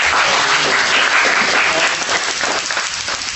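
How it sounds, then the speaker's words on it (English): An audience at a BNI business networking meeting breaks into steady, dense applause, a close wash of many hands clapping with no voices standing out. "Let's give them a round of applause"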